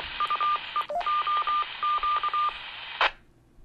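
A Baofeng UV-8HX handheld radio picks up a 440.25 MHz repeater 11.3 miles away: a string of short, loud dial-tone beeps over steady hiss, then an abrupt squelch burst before the signal drops to quiet.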